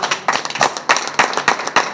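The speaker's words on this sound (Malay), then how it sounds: "Bagi tepukan kepada dia." Audience at a meeting about port lorry drivers and operators in Prai claps steadily for an official, a loud run of sharp, uneven hand claps with no talk over it.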